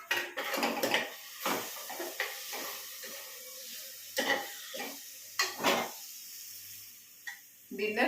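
Pots, pans and utensils clatter and scrape while tomato pulao is prepared in a home kitchen, with irregular close metallic knocks and clinks spread across the clip and a soft sizzle underneath.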